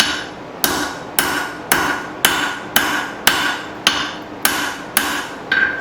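A hammer strikes hot steel on an anvil while a file is forged into a knife: about ten sharp, ringing blows at an even, deliberate pace, close and loud, with no talk.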